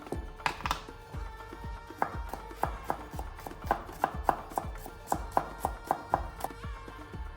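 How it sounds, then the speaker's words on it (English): Rapid knife chops through garlic cloves on a cutting board, sharp close taps in an uneven but quick rhythm, around twenty strikes with no voices. "Chop 2 cloves of garlic."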